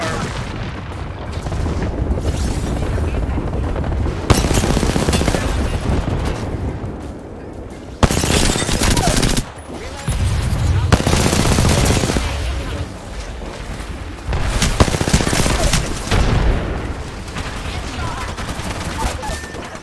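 An airstrike and gunfire in Apex Legends form a loud, near barrage of rapid shots and heavy booms that surges in waves, with brief dips between salvos.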